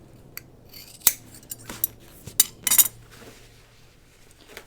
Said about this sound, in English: now I'm going to trim this a little bit more